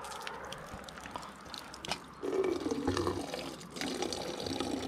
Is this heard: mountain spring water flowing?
yes